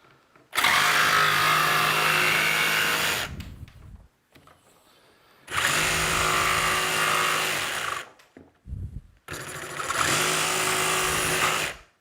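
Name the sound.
power tools running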